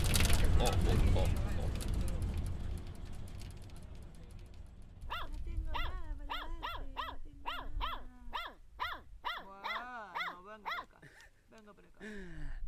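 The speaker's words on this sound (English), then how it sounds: "That is the sound of puppies." Several small, skinny puppies in Viñales, Cuba, yelp and yip in quick high bursts, fairly close, after a stretch of loud rumbling travel noise.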